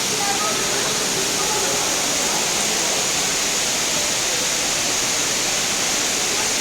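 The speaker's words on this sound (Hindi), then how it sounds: "बहुत प्यारा झरना है ये।" An indoor waterfall inside Dubai Mall pours in a steady, dense rush that fills the whole stretch, loud and unbroken, with no voices rising above it.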